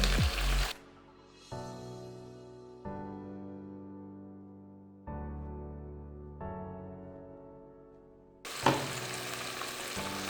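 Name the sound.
chicken frying in pan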